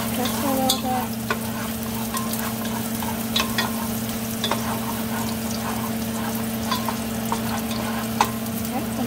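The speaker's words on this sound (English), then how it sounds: "Stir in the garlic. Let it cook for a little bit." Garlic sizzling steadily in a hot pan, a constant close frying hiss broken by the scrape and clack of a utensil stirring it now and then.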